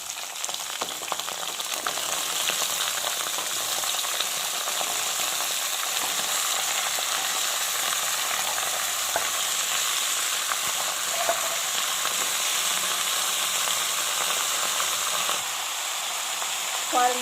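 Onions and vegetables for a labra sabji fry in a pan with a steady, dense sizzle that runs on at an even level, with faint scrapes of stirring now and then.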